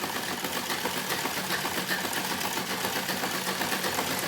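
Sewing machine stitching the edge of a salwar, a loud, fast, even mechanical whirr and rattle running continuously without pause and with nobody talking.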